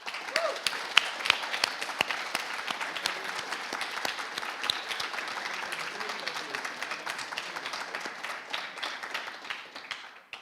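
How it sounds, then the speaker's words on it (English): A conference audience at a lightning talks session bursts into sustained applause, dense clapping from a large crowd that stays loud and steady for about ten seconds before tapering off at the end. "Please give them a warm applause."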